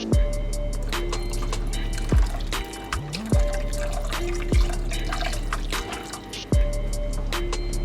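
Tomatoes tipped into a soup pot land with a series of wet plops and gloopy drips, each splash followed by a short sliding gurgle, repeating irregularly over a low background hum.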